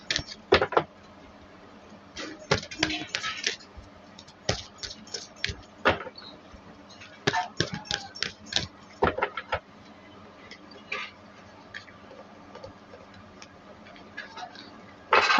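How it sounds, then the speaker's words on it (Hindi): A deck of tarot cards being shuffled, close and dry, with bursts of rapid riffling clicks and flicks separated by short pauses, no voices. "तो शफलिंग कर लेती हूँ"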